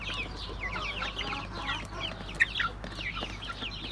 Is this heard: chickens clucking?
yes